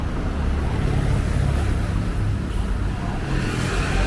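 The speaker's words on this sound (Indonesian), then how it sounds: "Akhirnya bus kita datang." A TransJakarta Skywell electric bus pulls in at night on the Pulo Gadung to Galunggung route, giving a steady, close low rumble over roadway noise that holds evenly throughout, with no talking.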